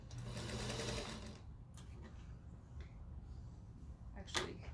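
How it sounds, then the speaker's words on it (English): Sewing machine chain piecing a quilt block, a fast close whirring run of stitches for about a second, then stopping, followed by faint clicks and handling sounds. "I need to sew this one first."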